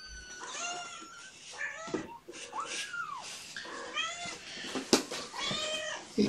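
Several kittens meowing close by, a run of high, rising and falling mews overlapping one another in quick succession, fairly loud, with a faint voice in the background.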